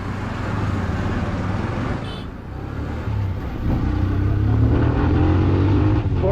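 A 2024 TVS Apache RTR 160 2V motorcycle accelerating in sports mode, a close, loud engine roar with wind rush that dips briefly and then climbs steadily in pitch as the bike gains speed.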